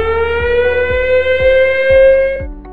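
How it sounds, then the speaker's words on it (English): An industrial plant's emergency siren sounds loud and close, holding a steady wailing tone for the whole stretch with a slight drift in pitch and no voices over it. "Please remain at the emergency assembly point till all clear siren is sounded, continuous for 180 seconds."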